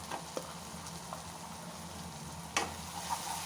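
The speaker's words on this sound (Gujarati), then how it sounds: "આની પણ થોડું આપણે સાંતળી લઈશું તેલમાં" Ginger, chili and garlic paste sautés in hot oil for an okra curry, a steady quiet sizzle with a few sharp crackles and pops near the end, and nobody speaking.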